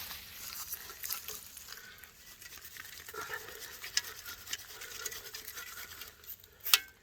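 Dirt is sifted over a trap pan at an outdoor dirt hole set, a soft steady patter of falling soil with faint scratching and a sharper rustle near the end.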